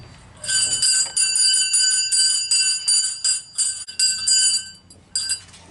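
An old school bell at a pioneer village museum rings steadily with bright, clanging metallic strokes, repeating for several seconds with a brief pause near the end.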